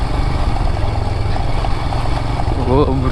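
A Royal Enfield Hunter 350 motorcycle engine runs during a ride, a steady low throb and rumble with wind noise underneath, loud and close, while someone talks over it.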